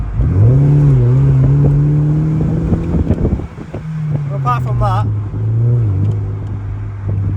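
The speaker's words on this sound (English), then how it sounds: "The exhaust is a little loud, I think." A BMW E93 320i convertible with a somewhat loud exhaust drones steadily while driving, the engine note rising and falling with speed, with someone talking over it.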